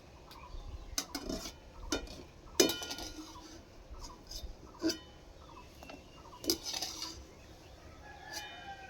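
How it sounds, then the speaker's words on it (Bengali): Metal wok (kadai) being cleaned in a kitchen, a series of sharp scraping clinks and knocks at irregular intervals, close and fairly quiet against a faint background. "আর কড়াইটা পরিষ্কার করে নিই"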